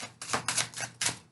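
Tarot cards being shuffled give a quick series of crisp riffling bursts, close and fairly loud, with no voices.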